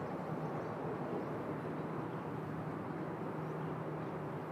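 A Thai Airways airliner takes off from Bangkok bound for Jakarta, heard as a steady, distant broadband jet roar with a low hum that holds constant throughout.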